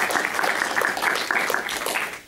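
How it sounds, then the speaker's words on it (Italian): An audience applauds at a medieval history festival in Umbria, Italy, in 2017: steady, dense clapping from a crowd that holds even for a couple of seconds before easing off. "Io chiedo solo un applauso per Marco"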